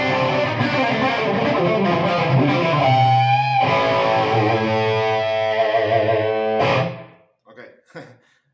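A heavily distorted electric guitar, played through no pedals with the bridge pickup at full volume, plays sustained, saturated chords and bends for several seconds, then cuts off into a few short muted strums.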